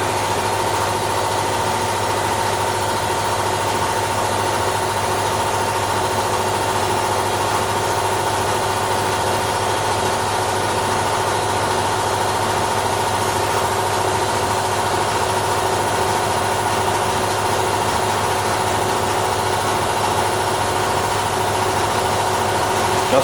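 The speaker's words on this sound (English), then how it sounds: "Just waiting for the compressor to build up, still getting there" An air compressor runs steadily throughout, building up pressure in a workshop during rust repair on a 1965 Ford Falcon; a constant loud motor drone and hum with no breaks or talk.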